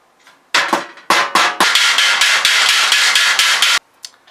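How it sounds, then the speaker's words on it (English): A regular hammer pounding metal on a machinist's 1-2-3 block used as an anvil, about a dozen loud, sharp ringing strikes in a fast, slightly uneven run, close by and with no talk. "Just a regular old hammer."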